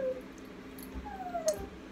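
A dog whimpers with a few thin, high whines, quiet and fairly close against a faint background hiss, with no talking.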